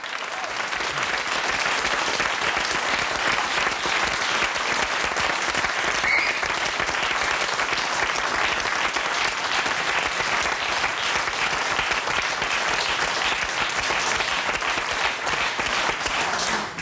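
Studio audience applause welcoming a folk singer onto the 3nach9 talk show set, a steady, dense roar of clapping sustained for the whole stretch with no talking over it.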